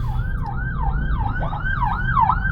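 An ambulance siren wails in a steady, repeating up-and-down sweep, loud and fairly close, over rumbling road and traffic noise with no talk.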